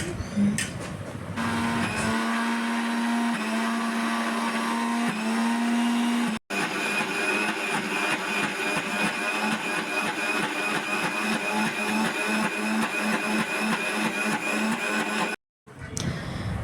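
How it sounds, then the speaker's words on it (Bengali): A kitchen blender grinds soaked mung dal with ginger and green chili into a paste. Its loud, continuous whirring motor runs with two brief pauses, and there is no talk. "এখানে আছে মুগ ডাল ভিজিয়ে রেখেছি, এগুলো একটু পেস্ট করে দিতে, বড়া করবে"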